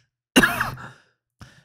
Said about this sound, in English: Pardon me, friends, had a coughing fit.